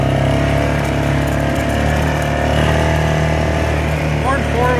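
Four-wheeler ATV engine in 4-wheel drive running at a steady, loud rumble with a constant low drone and no change in pace.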